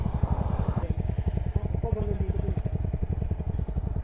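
A motorcycle, called a PG-1, idling and running close by on a weekend ride along the Marilaque highway from Marikina to Infanta, with a steady pulsing low engine thump throughout and a voice speaking faintly over it.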